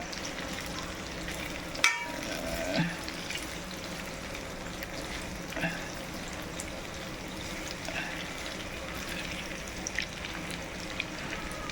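Boiled Indian gooseberries sautéing in a pan for pickle, a continuous low crackling sizzle with occasional stirring clicks and one sharp knock early on.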